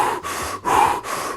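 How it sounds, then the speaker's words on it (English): Rapid, deep hyperventilating breaths, loud and close, in three strong rushes of air with brief gaps between them, and no talking. "you can do rapid deep breathing"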